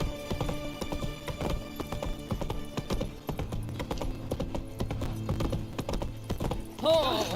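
Horse hooves clip-clop steadily at a gallop in The Witcher 3, a continuous rhythmic pounding mixed with game music and ambience, close and moderately loud throughout.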